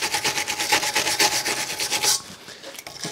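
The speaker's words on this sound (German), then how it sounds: "Erstmal bürsten wir noch mal ein bisschen die Schrauben ab." A stiff brush scrubs dirt off the screws of a Toro Greensmaster mower cutting unit, a steady rapid rasping of short strokes close up that stops near the end, with no talking.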